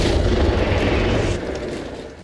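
Pulsewave's Sonic Blast detonating in a superhero game, a loud, close, rumbling explosion that holds for over a second before fading into a trailing roar.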